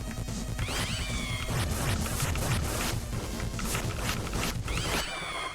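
Cat enemies meowing in the Deltarune video game, a busy run of repeated electronic meows and yowls layered over game music and hits, fairly loud and continuous.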